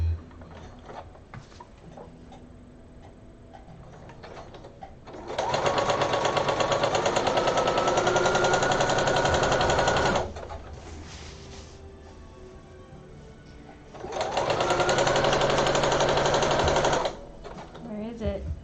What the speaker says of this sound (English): So we're going to do some gathering stitches.